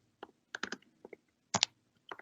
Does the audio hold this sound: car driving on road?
no